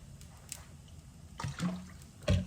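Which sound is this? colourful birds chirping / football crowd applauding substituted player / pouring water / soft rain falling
pouring water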